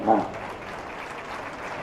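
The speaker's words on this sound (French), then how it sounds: "On les applaudit très très fort." Spectators applaud at the France vs Sweden match of the 2017 mixed Open de France. A brief voice opens, then steady crowd clapping continues at moderate level.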